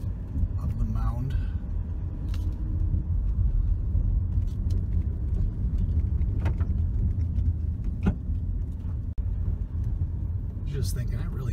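Car engine rumbling steadily as it climbs a forest preserve road to the top of a mound, heard from inside the vehicle with someone talking over the drive.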